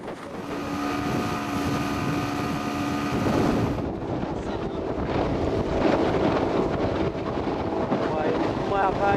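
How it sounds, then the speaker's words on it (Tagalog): A passenger boat pushes slowly through big waves, its engine droning beneath gusting wind buffeting the microphone and the wash of water against the hull, steady and close throughout. "Dahil sa laki ng mga alon, mas bumagal pa ang takbo ng Jungkon."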